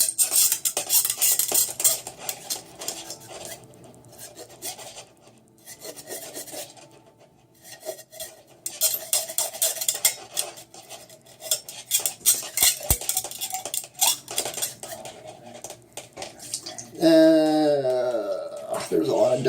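A brush scrubbing inside a trombone bell section makes continuous rasping, scraping strokes in uneven bursts with short pauses, close and fairly loud, ending with a brief spoken voice.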